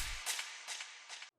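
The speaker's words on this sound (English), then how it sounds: "Next, we've got this shot effect." A gunshot sound effect with ping pong delay: a harsh, loud burst followed by two fading echoes that bounce back and forth, each cutting off abruptly.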